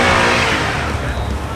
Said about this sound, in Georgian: ახლა გამოდიან მე მგონი ჩოლებრივი ქუჩის მანქანები,